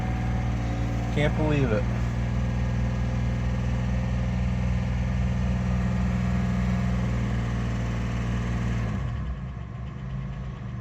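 The Intimidator vehicle's engine runs steadily with a loud, close mid-pitched rumble and no alternator fitted, then drops off near the end; a voice speaks briefly early on.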